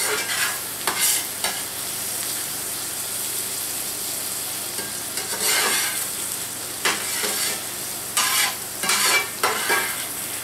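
Fried cabbage and bacon are stirred and scooped in a cast iron skillet, with repeated scraping strokes over a steady close sizzle for about ten seconds and no voices.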